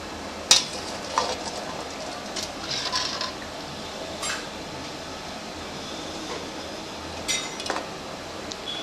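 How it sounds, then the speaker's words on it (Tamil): Kai murukku dough frying in hot oil gives a faint, steady sizzling hiss, with occasional light clinks of utensils against the pan. "இப்போ பிசைஞ்சு வச்சுருக்கிற எல்லா மாவையும் நான் சுற்றி எண்ணெயில் போட்டு எடுத்துகிட்டு உங்களுக்கு காமிக்கிறேன்"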